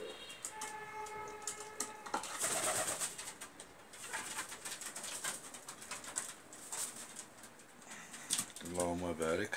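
Pigeons coo in a loft, repeated soft murmuring calls up close, while someone talks over them throughout.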